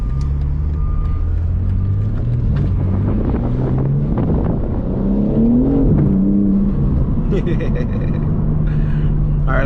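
A BMW M3 CS sports car drives hard on a dusty surface, its engine note rising and falling in steady pitch sweeps under heavy wind buffeting, with a voice briefly audible.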